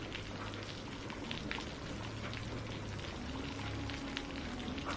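Steady, dense rain pours without a break, a continuous close hiss with no voices.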